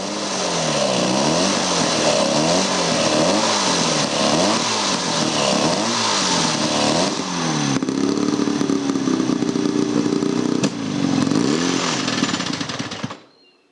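A BSA Gold Star ZB32 motorcycle engine runs on rollers in a workshop with a slightly odd noise, a loud, close, steady mechanical clatter and drone that rises and falls rhythmically, then cuts off abruptly at the end.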